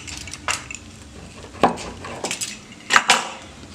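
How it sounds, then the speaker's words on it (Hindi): A pizza cutter slicing a grilled paneer quesadilla on a plate, giving several sharp clinks and scrapes of metal on crockery in uneven bursts, close and fairly quiet. "पिज़्ज़ा कटर से इसको कट करना है।"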